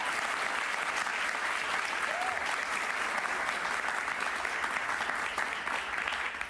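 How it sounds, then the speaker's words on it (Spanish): A studio audience at a Jaime Bayly interview with María Corina Machado breaks into sustained applause, a thick, even roar of clapping that holds steady and fairly loud throughout with no speech over it. "Un aplauso para ellos."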